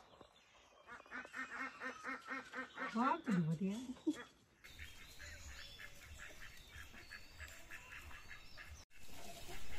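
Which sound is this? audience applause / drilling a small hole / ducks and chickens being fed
ducks and chickens being fed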